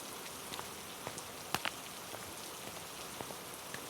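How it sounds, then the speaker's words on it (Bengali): Steady rain pours in a cartoon, a dense even hiss broken by scattered louder drops and brief splats, with no voices over it. "অনেকক্ষণ ধরেই বৃষ্টি হচ্ছে"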